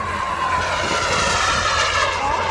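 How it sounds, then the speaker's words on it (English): An F-18 demonstration jet, flown remotely at an airshow, roars loud and steady as it passes, its engine whine shifting in pitch, with no talking over it. "The F-18 demonstration plane."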